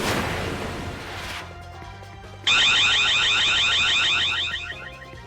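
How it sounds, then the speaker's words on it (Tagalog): A CCTV camera alarm system sounds in a warehouse in Punta Santa Ana, Manila, before dawn; after a dull rumble, a loud, piercing electronic siren starts abruptly and holds steady. "Biglang tumunog ang alarm system ng CCTV camera sa isang bodega sa Punta Santa Ana, Maynila madaling araw noong May 17."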